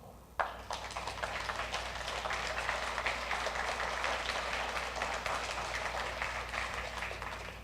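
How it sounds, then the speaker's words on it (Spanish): A church congregation breaks into loud applause during a pastor's sermon. It starts abruptly after a brief quiet moment and then rolls on as a dense, sustained wall of clapping. "Dense un fuerte aplauso."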